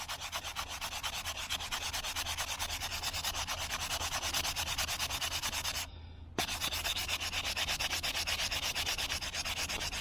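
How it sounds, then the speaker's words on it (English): Steady abrasive rubbing as a carved nectarine fruitwood spoon is sanded, a continuous close scratchy hiss with a brief pause near the middle, no talking. "once we get it all sanded down and stuff"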